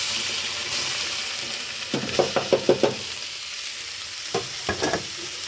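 Carrots frying in hot ghee with cardamom and bay leaf, a constant bright sizzle broken by a quick run of stirring scrapes and then a few more clinks near the end, close by with no voices.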